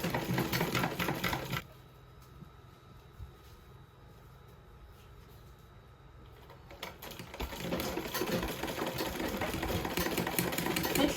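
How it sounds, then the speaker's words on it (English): Sewing machine stitching boning onto a machine-knitted skirt panel, a close rapid whirring that stops for several seconds and then starts again, with no talking. "Make sure you are sewing it directly on the boning."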